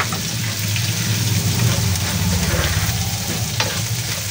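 Ground pork for pork and tofu sisig sizzling and frying in a pan while being stirred, a steady loud crackle with scraping stirring strokes throughout.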